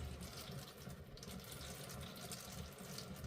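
Old, black transmission fluid from a 100k-mile car pours steadily out of the loosened transmission pan, a constant, moderately faint liquid rush without pause or speech.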